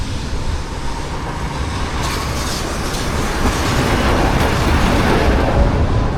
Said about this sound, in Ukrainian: Зараз Ще трамвайчика зблизька зніму вам.